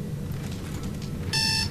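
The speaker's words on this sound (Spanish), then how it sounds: "me asustó la alarma del reloj" An alarm clock rings in the Dead Space 2 video game, a short burst of loud, rapid electronic beeping that cuts in suddenly over a low ambient game hum.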